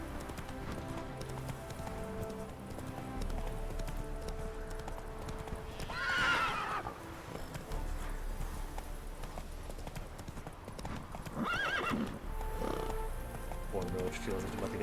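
Roach the horse in The Witcher 3 trots with a steady clip-clop of hooves and lets out whinnies twice, under game music and someone talking.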